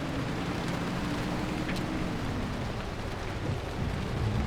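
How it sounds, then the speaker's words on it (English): Steady rain and thunder in the Pacific Drive driving game, a constant loud wash of rainfall with low rumbling underneath, no talk. "In the pissing rain."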